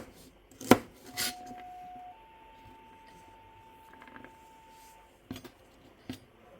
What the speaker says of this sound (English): he'll probably, hopefully, come to my rescue and chop the onion